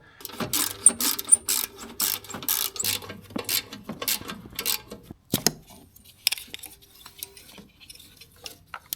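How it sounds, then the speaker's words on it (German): A ratchet works on the exhaust clamp at the turbocharger of a Mercedes W204, with repeated metallic clicking strokes in close, steady bursts, then a few sharper clanks and lighter tool handling. "Hier einmal am Turbolader die Auspuffschelle lösen."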